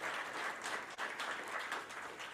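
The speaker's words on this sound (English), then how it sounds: "Let's give them a round of applause." Applause at a weekly club meeting, people in a room clapping continuously at moderate, fairly distant level with no talk on top.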